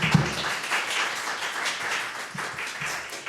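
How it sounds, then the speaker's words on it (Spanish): Applause from an audience at a legal jurisprudence event, a broad, steady wash of many hands clapping that holds at an even level throughout with no voices over it. "Un aplauso, por favor"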